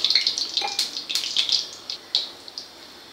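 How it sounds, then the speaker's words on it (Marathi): Water splashing and trickling into a bowl in short, uneven bursts, close and fairly loud, thinning to a few drips at the end. "आता याच्यात आपण थोडं आणखी पाणी घालून घेणार आहोत"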